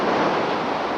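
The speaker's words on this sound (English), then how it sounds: "A tremendous storm surge is shoving its way ashore," Hurricane storm surge waves pushing Mobile Bay ashore in Mobile, Alabama, with a loud, steady roar of surf and gusting wind battering the microphone throughout.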